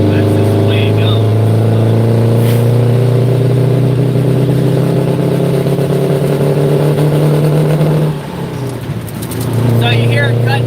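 A dump truck engine with a clogged fuel filter drones loud and close, then stumbles and sags for about a second near the end before picking back up, while someone talks over it.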